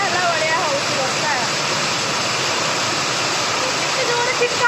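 A downpour pounds a tin roof in a loud, unbroken roar of pattering drops that holds constant from start to finish, with no one speaking.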